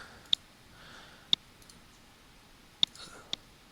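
Four sharp, isolated mouse clicks spaced unevenly over a few seconds, close and crisp against a quiet background.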